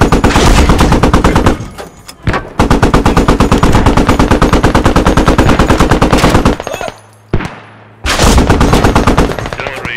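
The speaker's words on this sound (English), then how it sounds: "Abrams is still firing on the east side of the point." An M1A2 Abrams tank fires in the Squad video game on the Gorodok map, heard as loud, close, sustained rapid automatic fire in long bursts, broken by brief pauses and a short silent gap before the firing resumes.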